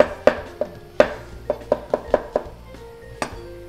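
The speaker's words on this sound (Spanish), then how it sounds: "En lo que se calienta la placa vamos a cortar nuestros champiñones." A knife chops mushrooms on a cutting board in a home kitchen, about ten crisp, irregular thuds close by, with short quiet gaps between strokes.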